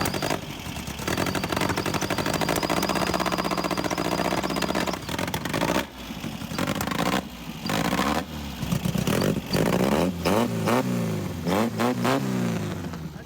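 An abandoned dune buggy's engine runs rough and loud with sputtering, uneven firing, then revs up and down in several rising and falling surges toward the end.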